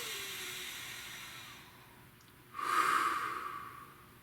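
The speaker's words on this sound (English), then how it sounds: "Nice deep breath" One deep breath is drawn in slowly and close by with a long airy hiss, then let out in a stronger, breathy exhale that sounds alone against a quiet background.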